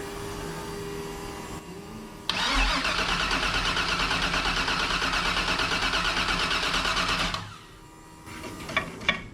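A Factory Five 35 hot rod truck's engine is cranked in a start attempt: a loud starter whir with rhythmic pulsing runs about five seconds, then cuts off without the engine catching, leaving a quiet background.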